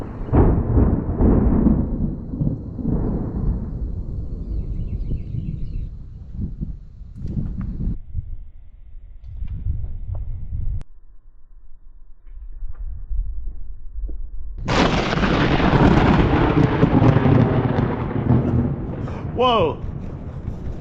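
Thunder from a nearby lightning strike rumbles low and heavy, rolling through pauses, then a louder crack-like burst swells and lingers, with a person talking at moments.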